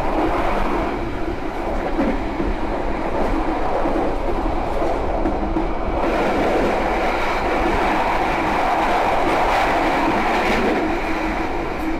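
Aboard a Gajayana executive-class passenger train, a loud, steady rumble and roar of the carriage running on the rails fills the space. The sound is continuous and broadband throughout, with no talking.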